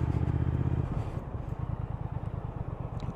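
A 2019 Triumph Thruxton R 1200 motorcycle runs with a steady low engine throb. The rumble is heavy at first, then drops to a lighter, pulsing rhythm, close by and with no talk.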